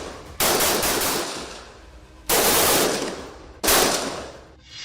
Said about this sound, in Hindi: आतंकवादियों ने घेरा तोड़ने के लिए टीम पर अंधाधुंध फायरिंग शुरू कर दी